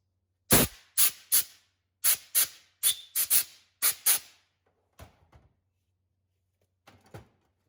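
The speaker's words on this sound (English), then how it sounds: "I've got this blower thing here, and just kind of blow it all out" Compressed-air blower cleaning LS ignition coils, a series of about ten sharp, close bursts of air in quick irregular succession, followed by a few fainter short puffs and quiet gaps.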